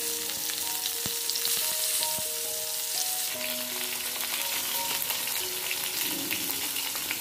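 Prawns threaded on thin coconut-leaf sticks deep frying in hot oil, a dense, continuous crackling sizzle filling the whole stretch, with scattered pops and a faint tonal hum underneath.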